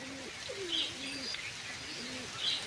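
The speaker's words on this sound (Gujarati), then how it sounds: "બાકી આપણા કબૂતર છે અહીંયા" Pigeons coo in low, rolling phrases, three or four of them close by, with a couple of brief higher chirps and steady background hiss between calls.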